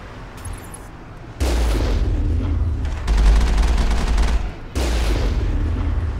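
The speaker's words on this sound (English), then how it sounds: "the Mako's cannon makes short work of them" Cannon on the Mako vehicle fires in the Mass Effect video game, heavy booming bursts and rapid, rattling fire over a low rumble that run almost continuously, with brief drops between volleys.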